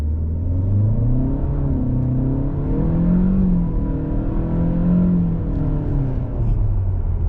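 A 2022 Chevrolet Malibu RS with a turbo engine and CVT pulls away from a standstill, its engine note climbing in a smooth, rising whir and rumble heard from inside the car.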